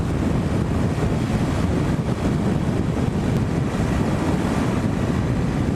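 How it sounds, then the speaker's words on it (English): Strong wind blows across an open marsh during a ride on a Ninja 400 KRT motorcycle, a loud continuous low roar and buffeting against the microphone with no breaks. "I just gotta get across this windy ass marsh"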